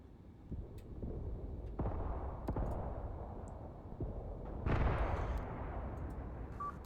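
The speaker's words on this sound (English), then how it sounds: "It looks like they are calling in more artillery on us." Artillery fire in the Graviteam Tactics war game, several distant booming impacts and sharp cracks rolling under a constant low rumble, with one heavier burst near the end, fairly faint overall.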